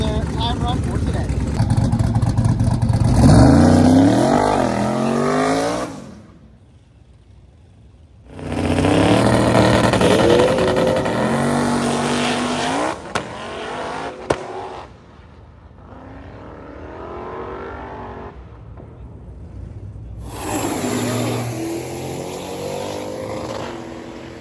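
A twin-turbo blow-through carbureted hot rod and a Chevy Nova racing down a drag strip: loud engine roars rising in pitch through the gears in separate bursts, with quieter gaps and a voice talking between runs.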